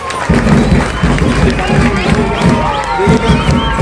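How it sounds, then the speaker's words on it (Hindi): A large crowd at a school building and turf ground inauguration in Kiradpura claps and cheers loudly and continuously, with a dense babble of voices and rhythmic pulses running through the whole stretch. "सबसे पहले उनके लिए तालियां।"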